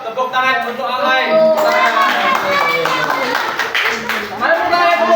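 A children's class claps for a pupil, quick patters of many small hands under loud overlapping voices and cheering near the microphone.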